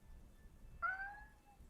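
A house cat gives a single short meow, faint and clear against a low, quiet background hum.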